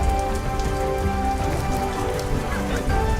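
Steady rain pours down on surfaces in the dinosaur survival game Primal Planet, a dense continuous hiss with a faint droplet texture, with no talking.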